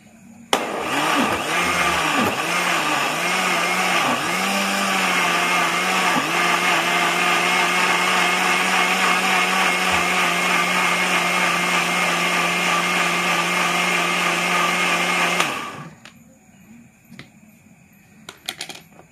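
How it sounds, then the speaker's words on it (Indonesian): An electric blender grinds papaya leaves with other herbal ingredients into a medicine for ornamental fish, whirring loudly and continuously for about fifteen seconds with pitch dips as the load shifts, then stopping abruptly. "setelah selesai semua bahan-bahan tadi kita campur dan kita blender ya"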